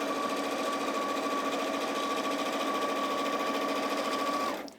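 An Elna 570 sewing machine stitches quilting pieces in one continuous, close, even run with a steady motor whine, stopping abruptly at the end.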